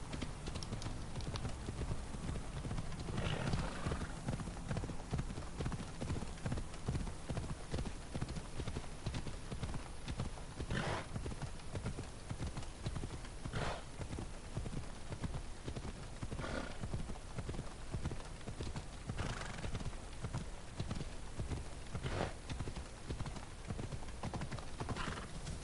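Rhythmic clip-clop of horse hooves at a steady gallop in the video game Assassin's Creed Odyssey, continuous and close throughout, with occasional neighs and a dense game soundscape underneath.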